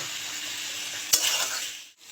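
Tomatoes sautéing in a pan, a steady hissing sizzle broken by one sharp stirring scrape, then a brief dip as the frying noise drops, close and moderately loud.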